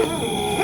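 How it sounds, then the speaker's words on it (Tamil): A dog at night lets out a sustained whining, yelping cry at close range, loud and continuous through the short moment. "நாய் கத்திகிட்டே இருக்கு."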